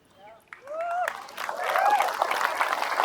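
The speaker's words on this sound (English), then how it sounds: "everyone just laughed earlier and clapped now" A keynote audience in Melbourne breaks into applause that builds from scattered claps into a full, steady wash of clapping across the room, with a voice sounding briefly at the start.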